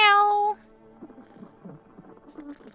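A single loud, drawn-out cat meow in a video game opens the moment, then cuts off into quieter, murmuring voice-like sounds and soft background noise.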